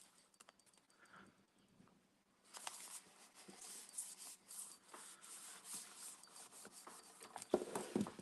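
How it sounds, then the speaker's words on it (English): A burnishing stick is rubbed over a surface in soft, irregular scraping strokes, faint and close, that begin after a couple of quiet seconds. "burnishing stick. Burnish, burnish, burnish."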